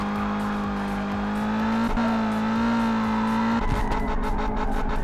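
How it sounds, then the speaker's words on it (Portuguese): A car drifts at high speed in Forza Horizon, its engine holding a loud, steady droning note close up, then roughening and sputtering toward the end. "Ó, drift de alta velocidade."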